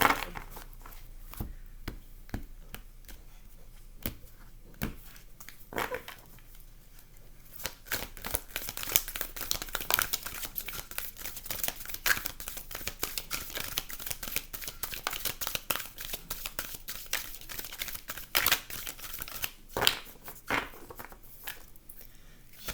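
Tarot cards are shuffled by hand in quick bursts of crisp riffling and slapping, close and fairly quiet, growing denser and more continuous in the middle with short pauses between rounds.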